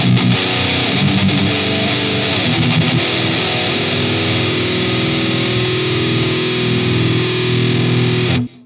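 Electric guitar driven through a Boss Metalcore ML-2 distortion pedal, thick saturated chords grinding continuously at high level for several seconds before cutting off abruptly.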